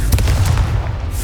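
A Confringo explosion spell in the video game Hogwarts Legacy: a loud, close burst with a heavy low boom and a few crackling pops, fading within about a second.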